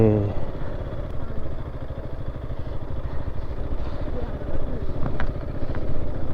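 A motorcycle engine runs nearby with a steady, pulsing low putter and some rattling clatter. The level stays fairly even, with brief sharper ticks near the end.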